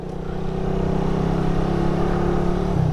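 A group of four motorcycles, including a Suzuki Raider 150, rides together on a long-distance road trip through Luzon. Their engines make a steady, continuous hum with wind rush throughout and no talking.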